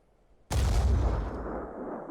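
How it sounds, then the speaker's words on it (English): A single Hell Cannon shot in Phoenix Point erupts as one sudden, heavy blast with a booming low end, then rolls into a long rumbling decay, alone with no voices. "Fire a single shot at this Chiron with the Hell Cannon"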